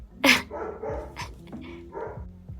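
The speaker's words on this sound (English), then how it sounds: "Spencer has satisfied his needs to bark" A dog barks in a series of sharp, loud close-up barks, several in quick succession with short gaps, alone without talk, in a quiet indoor setting.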